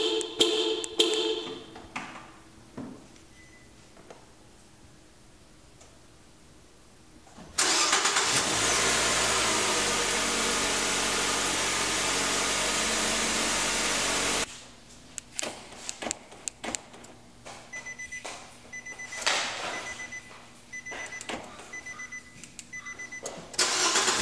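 A 2013 Nissan Sentra engine starts: quiet surroundings give way to a sudden loud burst of cranking and engine roar that runs steadily for about seven seconds and then cuts off abruptly, followed by softer clicks and taps.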